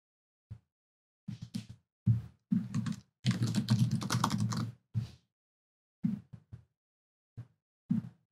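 Computer keyboard keys pressed in short clusters and one longer run of rapid clicks, close and fairly quiet, with silent gaps between and no talking.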